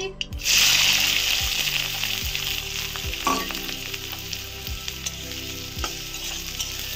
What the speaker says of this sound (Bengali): পেঁয়াজগুলো আমি ভেজে নিচ্ছি ভালো করে।